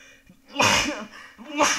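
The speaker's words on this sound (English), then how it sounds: "I sneezed." A person sneezes twice in quick succession, close and fairly loud, with sharp bursts separated by a brief breathy pause.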